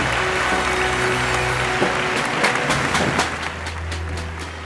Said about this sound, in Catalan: Un aplaudiment, sisplau